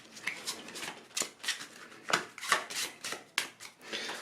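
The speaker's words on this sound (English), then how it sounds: "you shuffle up these cards here" Cards for the Solani tabletop game are shuffled by hand, a quick run of soft riffling flicks and snaps in irregular bursts, close and quiet.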